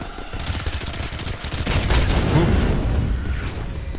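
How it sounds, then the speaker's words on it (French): Rapid gunfire rattles nonstop in Earthfall, then an explosion swells into a loud low rumble under the continuing shots. "pas mal ça, petite explosion"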